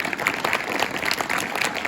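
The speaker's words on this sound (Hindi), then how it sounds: "लिए एक जोरदार तालियां बजाएं।" A crowd gives lively, sustained applause at a Uttarakhand folk culture day celebration, the many hands forming a dense clatter that holds steady without speech.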